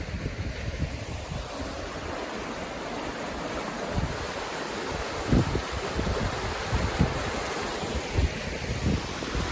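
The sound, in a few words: river flowing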